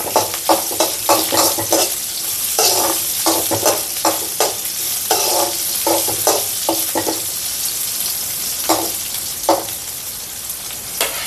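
Chopped shallots sizzle steadily in hot oil for a pickle of raw papaya, with green chilli and ginger, while a spoon scrapes and stirs in quick repeated strokes; close and continuous, with no talking.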